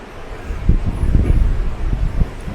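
Steady wind buffets the microphone with low rumbling gusts along the coast of Taiwan, a continuous roar rising and falling, no voices.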